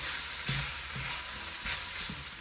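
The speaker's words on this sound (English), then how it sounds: "I'll just add in the pieces of saltfish. I'll toss it up in the oil to get it even coat." Pieces of saltfish fry in hot oil with a soft, steady sizzle, broken by several low thumps and scrapes as they are tossed in the pan.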